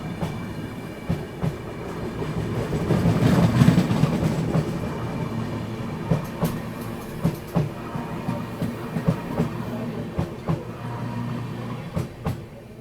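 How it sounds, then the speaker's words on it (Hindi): A Bharat Gaurav tourist train runs past close alongside on the line from Kanpur toward Jhansi, a steady heavy rumble broken by repeated sharp clicks of wheels over rail joints, with no talking. "यहाँ पर भारत गौरव टूरिस्ट ट्रेन निकल रही है बगल से, झांसी की तरफ कानपुर से"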